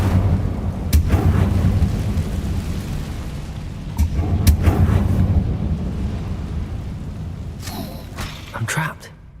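Incendio fire spell blasts in the video game Hogwarts Legacy, several sharp cracks followed by rolling rumbles, with a few distinct bursts spaced across the stretch over low background noise.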